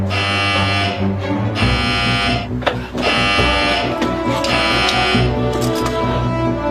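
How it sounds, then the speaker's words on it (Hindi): Alarm clock buzzer ringing loud and harsh in long sustained bursts with brief breaks, a rough electric drone filling the room. "अलार्म! उठो उठो!"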